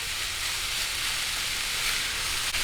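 Chicken sautéing in a pan for Filipino sisig gives a loud, steady sizzle, a constant bright hiss of frying that carries on without a break, with no talking over it.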